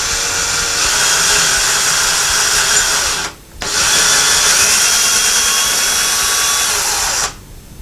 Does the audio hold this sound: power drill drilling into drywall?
yes